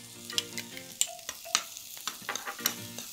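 Onions and shallots frying in a pan, a steady close sizzle broken by scraping stir strokes and a few sharper clatters.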